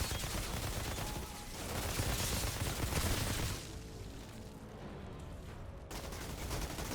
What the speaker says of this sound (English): Am I getting shot from behind?